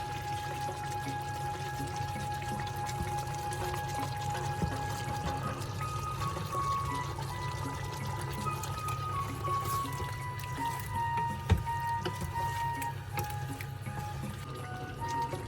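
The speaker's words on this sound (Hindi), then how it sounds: "अब बारी आ गई है दही डालने की।" Yogurt is poured into a pot of achari mutton curry, making a soft, steady pouring and trickling sound over a low background hum for a prolonged stretch, with a faint clink partway through.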